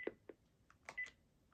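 Keypad presses on an RCA office telephone system give a few short tones and beeps, quiet and spaced unevenly with gaps between them.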